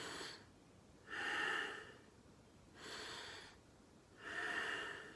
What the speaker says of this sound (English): So it's called like bellow breathing.